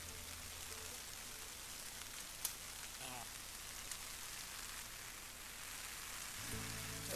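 Light drizzle falls outdoors on a grassy plateau, a faint, steady hiss of fine rain with a few soft drop ticks throughout.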